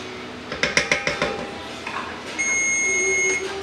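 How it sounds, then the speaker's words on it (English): Kitchen timer buzzer sounding a sustained electronic tone for about a second while cooking a Cajun chicken linguine alfredo, preceded by a quick run of clinking kitchen clatter. "And there's the buzzer."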